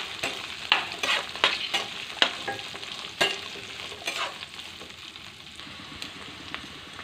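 Small beetroot pieces fry in a pan with a crackling sizzle while a spoon scrapes and knocks against the metal in quick strokes that taper off, close and free of speech.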